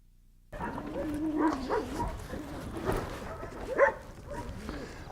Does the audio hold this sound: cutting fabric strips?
no